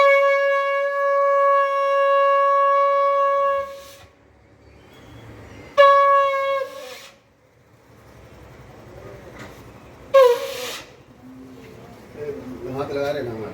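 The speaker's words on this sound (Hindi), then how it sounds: "थोड़ा शंख की ध्वनि करते हैं" At a Hindu house-warming ritual, a conch shell is blown in two long, loud, steady blasts with a short pause between them, followed by voices talking nearby.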